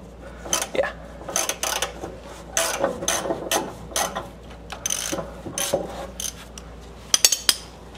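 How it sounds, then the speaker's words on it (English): A ratchet wrench cranks on a bolt at the differential of a Nissan 200SX in a home garage, with loud, close bursts of rapid metallic clicking in repeated strokes and a few sharp clanks near the end, no voices. "I'm probably gonna have to lean into it with the ratchet, but it should go."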